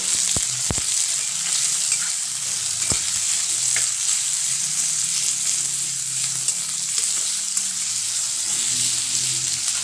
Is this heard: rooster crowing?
no